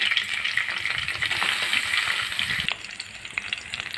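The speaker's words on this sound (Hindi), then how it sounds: "सबसे पहले अच्छे से इसको इस तरह से फ्राई करें" Cauliflower pieces frying in a pan for a curry, giving a steady, close hiss of sizzling oil with faint stirring scrapes throughout; the sizzle thins and quiets slightly near the end.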